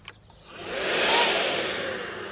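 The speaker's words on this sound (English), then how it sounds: "I also have my 40 volt blower" A 40 volt cordless leaf blower spins up to a loud, airy rushing roar that peaks and then holds steady, heard close by with no talking.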